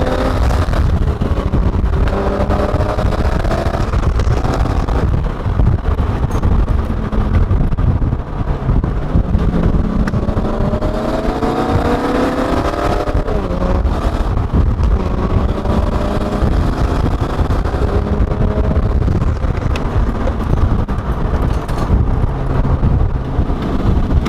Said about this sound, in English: when I found myself next to Max Chilton in his genuine AC Cobra, chasing our lightweight E-Type down an open road